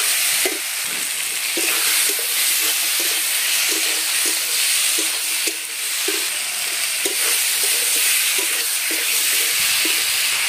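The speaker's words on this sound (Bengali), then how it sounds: "মশলাটা কষানো হয়ে গেছে, এবারে এর মধ্যে দেবো আলু" Potatoes fry in a spiced tomato masala for an egg and potato curry, a loud continuous sizzle and hiss with a spatula stirring them in steady, evenly spaced strokes close by.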